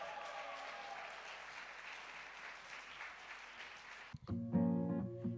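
A crowd applauds and cheers at a school music event for a band, sustained clapping for about four seconds before the band begins playing loudly.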